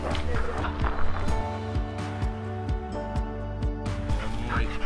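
Lila, a truffle-hunting dog working outdoors in Istria, lets out repeated sharp barks and yips mixed with whimpers, close and fairly loud, over steady background noise.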